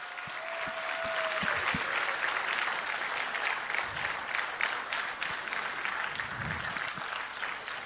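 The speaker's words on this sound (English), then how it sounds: "let's give them a round of applause for right now" Audience applause at a welcome and keynote session of a space-related conference, thanking red-shirted volunteers; a brief tone and a few early claps swell into loud, sustained crowd clapping that carries on to the end.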